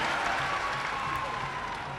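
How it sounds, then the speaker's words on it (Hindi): A large crowd at a political rally in Purnia claps steadily, a continuous wash of applause heard at a distance, with a voice over a loudspeaker mixed in. "अरे ताली बजाओ भाई"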